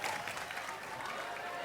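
An audience at a public discussion gathering gives a brief round of applause, a soft, steady wash of clapping from a crowd lasting under two seconds.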